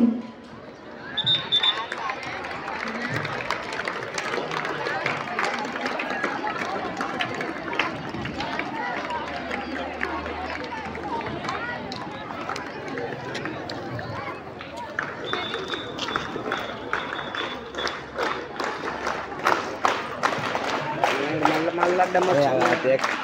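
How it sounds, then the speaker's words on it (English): Crowd clapping at a Sri Chaitanya School sports day in Adibatla: a busy, continuous wash of hand claps and crowd noise lasting over twenty seconds, with people talking throughout and a faint whistle-like tone at times. "Everyone, please put your hands together for clapping."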